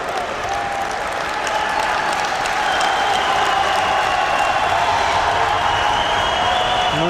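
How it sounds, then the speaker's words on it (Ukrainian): Arena crowd in the Zaporizhzhia sports palace applauding during a professional basketball game, a loud, continuous wash of clapping with some crowd noise mixed in, steady from start to finish. "зараз оплесками Палац спорту Запоріжжя-Люмінбуд вітає ось таку безкомпромісну боротьбу за м'яч"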